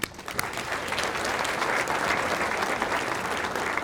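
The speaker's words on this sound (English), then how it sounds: "you guys all deserve a round of applause for that" A crowd at an awards ceremony breaks into sustained applause, the clapping dense and even from start to finish.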